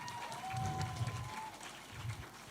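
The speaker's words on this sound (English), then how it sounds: "Please give her a round of applause." A summit audience applauds, a soft wash of clapping heard at a distance with low thumping underneath and a faint tone running through the first half.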